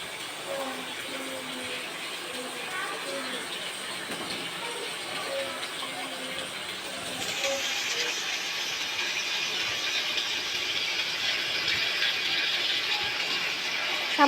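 Chopped tomatoes hit a hot pan of fried onion and garlic and break into a loud, steady broadband sizzle that strengthens midway, over an earlier softer frying hiss with faint voice-like traces.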